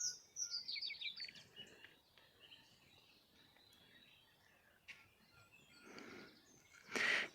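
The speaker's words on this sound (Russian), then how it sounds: "Послушайте, как в лесу поют птицы." Birds sing and chirp faintly in a spring forest, scattered calls coming and going at a distance, with a louder call close by at the end.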